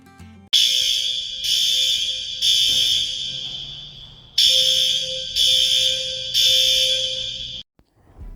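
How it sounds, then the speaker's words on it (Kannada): A building fire alarm blares during a fire drill in the USA, sounding six loud, harsh electronic buzzing blasts of about a second each in two groups of three, close and alone with no talk. "ಫೈರ್ ಅಲಾರ್ಮ್ ಹೊಡೆಯೋಕ್ಕೆ ಶುರುವಾಯಿತು."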